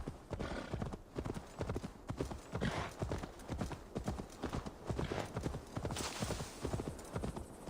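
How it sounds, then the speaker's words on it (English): Horse hooves in Assassin's Creed Valhalla clip-clop in a steady rhythm, drawing near and growing louder, with a soft whinny and faint voices in the background. "Come here, horse."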